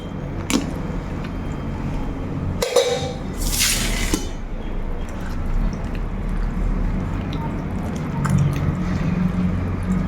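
Warm water is poured in a short splashing stream while making mushroom gravy, surrounded by light clinks of kitchenware and faint background noise.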